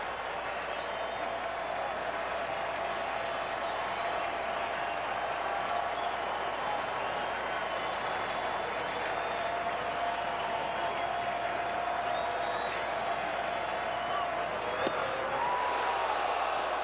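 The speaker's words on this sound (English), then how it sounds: "Crowd looking for a strikeout from Boggs" During the eighth inning of a 2012 NLDS playoff game between the Cardinals and Nationals, a large baseball stadium crowd keeps up a continuous, distant roar of cheering and clapping, with broadcast commentary faintly over it.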